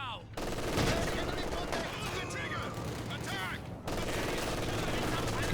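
Distant machine-gun bursts and scattered gunfire from a World War II battle in Company of Heroes 2, rattling steadily across several seconds with a sharp cut in the middle.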